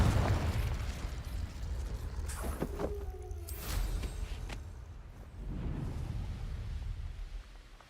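Confringo blasting spells burst in Hogwarts Legacy, several sharp pops and crackling explosions scattered over a rumbling game soundscape, moderately loud with no talking.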